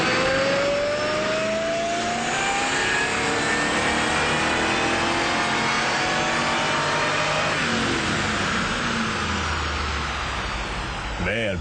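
A 2003/04 Ford Mustang Cobra engine roars loudly and continuously through a dyno run, its pitch rising steadily as it revs up, then settling near the end.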